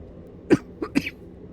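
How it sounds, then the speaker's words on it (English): Three short, sharp coughs close to the microphone over a quiet room, a single loud hack followed by two quicker ones. "There was a cough in there, which was completely unexpected."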